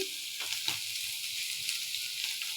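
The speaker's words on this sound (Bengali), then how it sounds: "আলু বেগুনগুলোকে দিয়ে ভালো করে ভেজে নেব" Potatoes and eggplant sizzle briskly in a hot pan, a constant bright frying hiss with occasional stirring scrapes.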